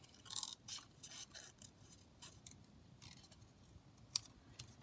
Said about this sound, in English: I'm just fussy cutting around some of the butterflies that just come in the kit